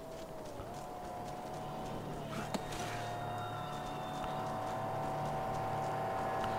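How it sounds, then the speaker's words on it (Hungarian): Engines of cars in the Mad Max video game approach with a steady drone and a rising whine, a sharp knock partway through, building slightly louder toward the end with no talk. "Jön egy autó, jön két autó,"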